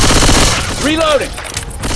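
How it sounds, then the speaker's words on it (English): Rapid gunfire in the zombie shooter Left 4 Dead 2 at the Dark Carnival, loud close bursts of automatic shots, with a brief voice-like tonal sweep in the middle. "Stop shooting each other."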